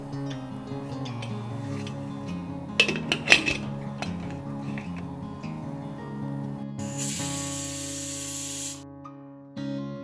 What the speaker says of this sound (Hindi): मैं अब इसे ऑन करके 1 विसल लगवाऊंगी और उसके बाद 20 मिनट तक इसे सिम पे पकने दूंगी।